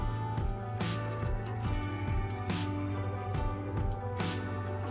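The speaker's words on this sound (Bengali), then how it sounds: "এবার আমি মাছগুলোকে এর মধ্যে একে একে দিয়ে দেবো" Rohu fish pieces slip one by one into a boiling cauliflower and potato curry, with soft wet plops and squelches over a bubbling, humming background.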